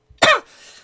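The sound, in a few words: coughing from lingering COVID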